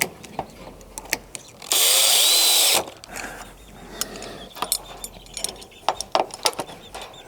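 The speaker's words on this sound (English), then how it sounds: "We're gonna cut this area out with some snips." Snips cutting an area out of a plastic rain barrel, heard as sharp, irregular clipping snaps and plastic creaks up close, with one loud sustained rushing burst early on.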